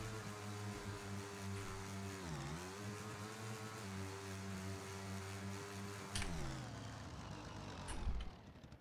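A motorcycle engine in the video game PUBG hums steadily with a layered droning tone, dipping briefly in pitch before cutting off near the end, leaving quieter background sound.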